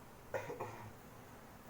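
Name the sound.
patient coughing during chest physiotherapy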